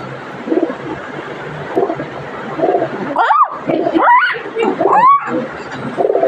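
A pet bird at home gives a few rising, warbling calls close by, interleaved with soft human voices and a low background murmur.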